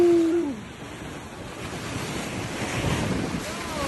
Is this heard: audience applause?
no